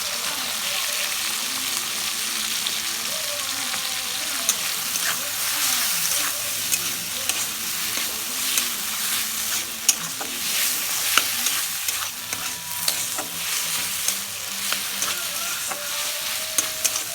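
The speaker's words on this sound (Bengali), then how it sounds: "হালকা একটু ভেজে নেব।" Snake gourd and prawns fry in a pan with a steady, close sizzle, broken by frequent small stirring scrapes and crackles throughout.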